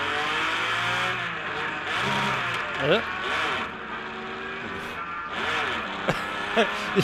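A Datsun race car at the Monterey Historics runs through a fumbled gear shift, its engine revving, dropping and climbing again in uneven pitch sweeps. A voice is heard over the engine.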